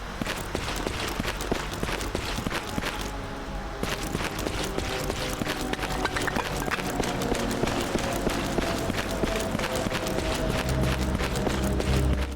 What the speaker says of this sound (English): the majority of what you'll hear throughout the game, are Andre's footsteps as he runs through the trenches and other areas of the maps